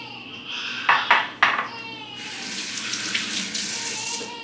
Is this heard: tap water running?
yes